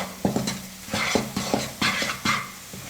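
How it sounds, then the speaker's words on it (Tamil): Sweet halwa mixture is stirred with a ladle in a pan on low flame: rhythmic scraping and thick, sticky slapping strokes repeat about twice a second, close up and alone. "நல்லா கரண்டி வச்சு கலந்து கொடுத்துக்கிட்டே இருக்கணும்."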